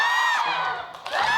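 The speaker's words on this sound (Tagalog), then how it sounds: "palakpakan na may kasamang hiyawan" Audience at a live comedy show cheering loudly, with high whoops and shouts from a crowd in a short burst, a brief dip, then a swell of voices again.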